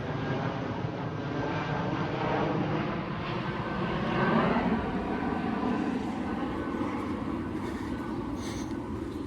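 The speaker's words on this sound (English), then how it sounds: "I hear a plane roaring directly over me." Air Canada airliner passing directly overhead on a street in a residential neighbourhood, a steady broad roar that swells slightly near the middle and fades gently, continuous and fairly loud throughout.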